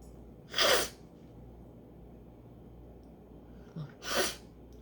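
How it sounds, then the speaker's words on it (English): Two forceful human sneezes a few seconds apart, each a loud sharp burst close to the microphone, with a quick intake of breath before the second. "I sneezed so hard it glitched my tablet."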